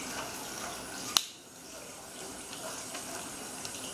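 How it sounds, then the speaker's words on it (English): Faucet water running in another room of a house, a faint steady hiss throughout with one sharp click near the start, no talking. "If you hear that water, it's my mom"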